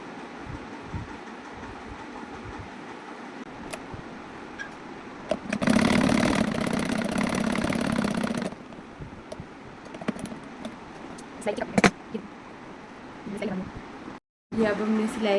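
A sewing machine stitches the second sleeve of a little girl's frock made from leftover fabric, with one whirring run of a few seconds between stretches of talking and handling noises.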